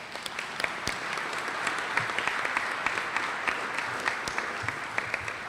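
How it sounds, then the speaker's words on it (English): An audience at the annual Florida Bar Convention applauds, a steady wash of many hands clapping at moderate loudness that holds evenly throughout, heard from a distance in a large hall. "Give you a round of applause."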